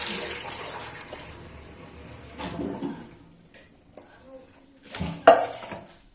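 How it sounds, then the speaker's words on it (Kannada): Vegetables are rinsed in water for upma, with splashing and clattering of dishes near and loud at first, then quieter bursts of sloshing and clinks, and a sharp clank near the end; a voice is briefly heard. "ತರಕಾರಿಗಳನ್ನೆಲ್ಲ ತೊಳ್ಕೊತಾ ಇದ್ದೀನಿ"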